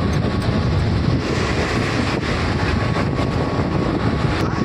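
A steady, loud rumble of a moving Mumbai local train with wind buffeting the microphone throughout, and no talking.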